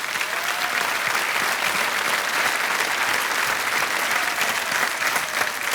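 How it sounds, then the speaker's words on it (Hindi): A studio audience at a television quiz show claps in a dense, continuous burst of applause, loud and even throughout with no talk over it. "तालियां बजती रहनी चाहिए इनके लिए"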